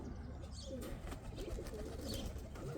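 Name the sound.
pet cock pigeons cooing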